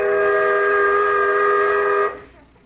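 A loud, sustained whistle blown in a radio comedy scene, one long steady piercing tone lasting about two seconds before cutting off abruptly into quiet.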